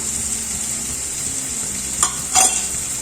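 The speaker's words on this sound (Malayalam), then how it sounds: "ഈ സവാള ശരിക്കൊന്ന് വാടി വരുന്നത് വരെ ഇടക്കൊന്നതുപോലെ ഇളക്കി കൊടുത്ത് അടച്ചു വെച്ചൊന്ന് വേവിച്ചെടുക്കാം." Onions with green chilies and curry leaves frying in a pan, a steady close hiss of sizzling oil with two brief bursts of stirring scrapes near the end.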